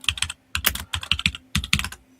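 Fast, hard typing on a computer keyboard, close up: several quick bursts of clattering keystrokes separated by brief pauses, with no talking.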